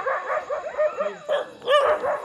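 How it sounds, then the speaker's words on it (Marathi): A dog barks and yelps close by in short bursts, with whining, whimpering tones in between. "तेवढं कुत्र्याला काय झालं काय नाही,"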